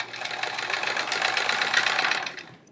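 A sewing machine drives a seam through thick quilt layers, a close, steady buzzing run of rapid stitches lasting a few seconds before winding down.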